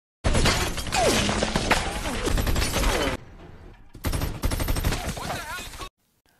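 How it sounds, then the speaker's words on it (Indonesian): Rapid bursts of gunfire and shattering impacts in a film shootout, loud and dense, with a brief lull before another volley, voices shouting underneath. "Terjadilah baku tembak-tembakan."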